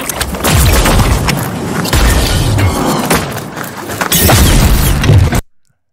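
A sci-fi boom transition effect in a Matrix style plays as a loud, dense, rumbling wash with repeated swelling impacts, then cuts off abruptly into silence.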